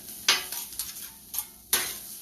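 Onion frying in a pan for veggie fried rice, a close steady sizzle broken by several sharp utensil scrapes and stirs against the pan, with no talking.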